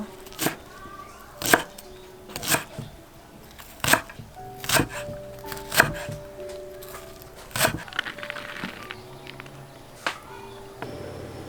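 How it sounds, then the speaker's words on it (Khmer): A knife chops garlic on a board while a snow banana dish is prepared, with about ten sharp, close knocks spaced roughly a second apart over a quiet kitchen background. "ចានេះយើងហាន់ទឹកខ្ទឹមណាត្រៀមដើម្បីយកទៅបំពងជាមួយស្ករ"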